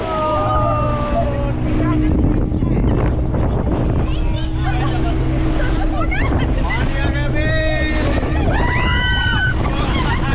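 A passenger boat ride off Diveagar beach brings a constant roar of engine, rushing water and buffeting wind against the microphone, with several people chattering and calling out over the noise.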